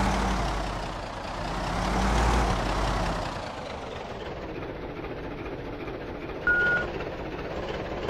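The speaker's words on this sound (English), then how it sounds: "it beeps when it backs up" A truck in a post-apocalyptic survival video game rumbles and rolls under a broad wash of engine and road noise, with a short steady tonal beep appearing near the end as it backs up; no talk is heard.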